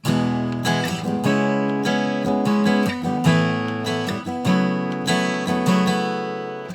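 Acoustic guitar strumming a smooth chord progression in open-string chord shapes, ringing strings sustaining between strokes, steady rhythm, close and fairly loud with no talking.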